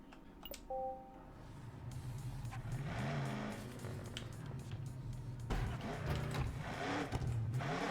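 A toy car is dropped into an environment in the Hot Wheels Unleashed video game: a short chime, then a rising, fairly loud engine-like whir that holds and swells, with faint background sound beneath.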